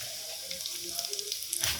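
Tempering of curry leaves, asafoetida and chilli flakes sizzling in hot oil, a quiet steady frying hiss with small crackles and a brief louder burst near the end.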